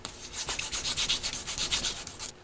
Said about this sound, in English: More polishing. Polish, polish, polish, polish, polish, polish, polish. Lots of polishing.